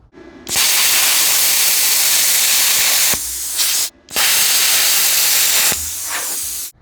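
A TOOLIOM TL-50C plasma cutter running at 35 amps slices through 16 gauge metal. It gives two long, loud, steady hissing bursts of about three seconds each, with a brief pause between them and no talking.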